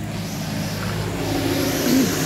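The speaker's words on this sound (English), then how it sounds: "I call them water buffalo, those big trucks with the" A big truck carrying large water tanks on the back rumbles past, a steady engine roar that swells slightly as it nears, with no talk over it.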